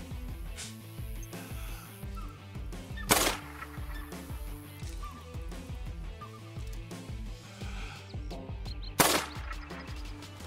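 Two sharp rifle gunshots ring out several seconds apart in a turkey hunting video game, over a busy background of game sounds and low rumbling.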